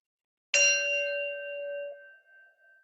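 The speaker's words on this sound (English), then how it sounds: "taking the sound of the bell," A single bell struck once during a gentle Kripalu yoga practice rings out with a bright, pure tone that hangs and slowly fades into silence, close and alone.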